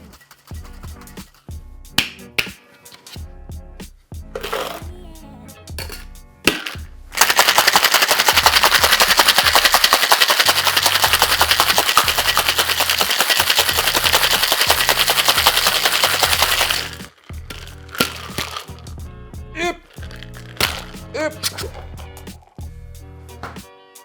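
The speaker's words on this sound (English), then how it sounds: "Give it a quick dry shake to emulsify the egg." A cocktail shaker holding an egg-based drink rattles in a long, loud, steady dry shake of about ten seconds. Scattered clinks and handling noises of bar tools and glass come before and after the shake.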